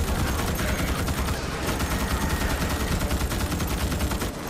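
A heavy-recoil gun in Starship Troopers: Extermination firing continuously, a loud rapid stream of shots rattling steadily for several seconds and easing off only at the very end.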